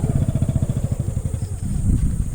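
A motorcycle engine thumps in a steady, fast, close rhythm as it rides along roads covered by floodwater after heavy rain, loud and alone with no talking.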